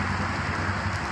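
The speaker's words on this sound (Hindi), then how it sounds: "अभी एक बार फिर बहुत तेज़ी से बारिश शुरू है" Heavy rain pours down steadily in Quetta, a dense, even hiss of falling water on surfaces, close and continuous with no voices.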